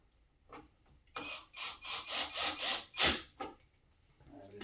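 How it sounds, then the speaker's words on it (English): Two T25 screws are driven into the radiator of a 2015 to 2020 Audi A3 with a power driver on a low setting: a close, rhythmic run of about seven buzzing, rasping pulses ends in a louder final burst. "we go ahead and secure it with the 2 screws that came off in here."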